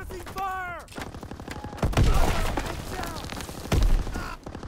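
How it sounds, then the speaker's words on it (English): Suppressing gunfire in a war video game with a Sten gun, a rapid burst of shots followed by heavier sustained volleys and thuds, loud and close, with a voice briefly heard near the start. "Need suppressing fire."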